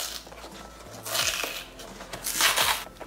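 A cake mix pouch for German chocolate cake being opened: crinkly plastic rustling and a sharp tearing sound in two bursts, close and fairly quiet.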